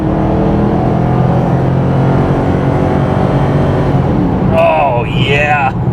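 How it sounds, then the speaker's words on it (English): A Ford Mustang GT, apparently running without catalytic converters, accelerates with a loud, raw exhaust roar that holds steady, then rising engine tones climb through gear changes near the end. "Maybe it doesn't have cats because the exhaust on this is pretty insane."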